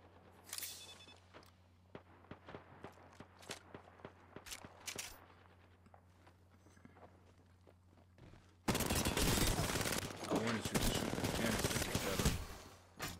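Apex Legends gunfire aimed at a canister: quiet in-game footsteps and scattered clicks come first, then a sudden, loud, sustained burst of rapid automatic shots that lasts several seconds.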